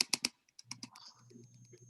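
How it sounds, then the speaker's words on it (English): Quick computer mouse or key clicks, a cluster of three sharp taps followed by several lighter scattered clicks, close and fairly quiet, with a faint electronic hum after them. "A bunch of clicking."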